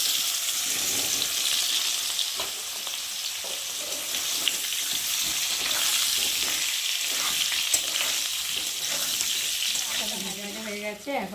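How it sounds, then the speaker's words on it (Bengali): Boiled potatoes fry in oil with cumin in a pan, producing a loud continuous sizzle and crackle throughout, with a brief watery clatter near the end and a voice talking over parts of it. "এবার আমি সেদ্ধ করে রাখা আলুগুলোকে ভালো করে একটু ভেজে নেব"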